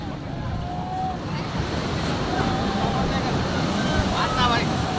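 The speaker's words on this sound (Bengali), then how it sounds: "সমুদ্রের ঢেউ" Sea waves rolling onto the beach at Cox's Bazar make a steady, full wash of surf that lasts throughout, with wind and faint distant voices mixed in.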